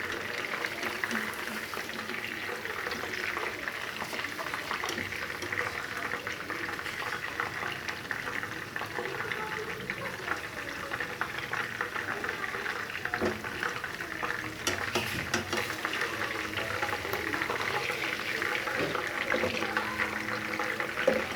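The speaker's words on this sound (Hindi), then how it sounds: "हमारे नरगिसी कोफ्ते जो हैं वो फ्राई हो चुके हैं।" Nargisi koftas sizzling in hot oil, a steady dense crackle and bubbling that runs evenly throughout, with faint kitchen clatter now and then and no clear voice over it.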